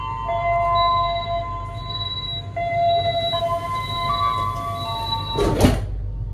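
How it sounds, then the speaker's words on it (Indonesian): Automatic sliding doors on a KA Majapahit economy-class train rumble shut with a loud close thud near the end, after a steady low hum and a multi-tone electronic chime from the carriage. "Kita biarkan saja, nanti bakal menutup sendiri pintu-pintunya."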